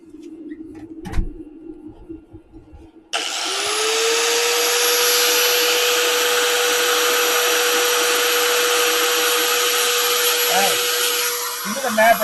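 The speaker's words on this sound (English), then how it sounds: "I'll see if it's tap with the angle grinder." Angle grinder whining at a steady high pitch while tapping a Ford Festiva six-speed transmission part, starting abruptly after a few seconds of quieter clatter and running loud and continuous close by.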